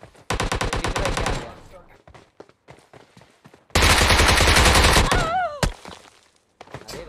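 Two long bursts of rapid automatic gunfire in PUBG Mobile, loud and close, separated by scattered single shots and clicks, with brief voice-like tones near the end.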